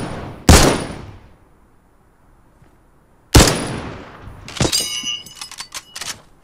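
Gunfire in the Fortnite video game: two sharp, loud single shots a few seconds apart, followed by a clattering burst of rapid fire near the end.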